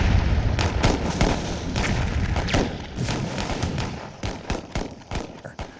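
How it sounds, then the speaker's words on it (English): Gunfire and explosions in the city of Khartoum during fighting between armed forces: a dense, loud barrage of booms and sharp cracking shots, continuous and overlapping, with rapid bursts of reports toward the end. "the capital city of Khartoum just explodes in gunfire"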